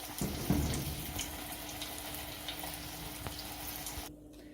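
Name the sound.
bread frying in hot oil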